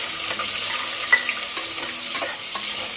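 Chopped onions fry in a hot pan for mushroom biryani with a bright, steady sizzle and a few soft stirring taps, heard close up and alone.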